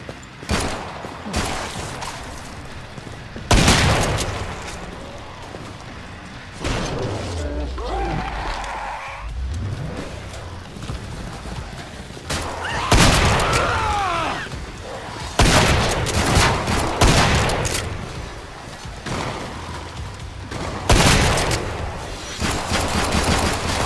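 Shotgun blasts ring out in Killing Floor 2, heavy booming shots spaced every few seconds over a dense backdrop of game noise, creature shrieks and a talking voice.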